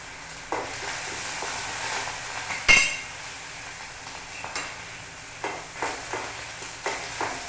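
Chana dal, mustard seeds and curry leaves fry in a pan with a soft steady sizzle, punctuated by occasional sharp spatters and the clink of a stirring spoon against the metal.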